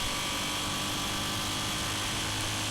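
Yamaha XT250 motorcycle accelerating from a standstill toward 60 mph on Stonelick Williams Corner Road, a steady loud engine drone mixed with heavy wind rush that holds at a constant level throughout.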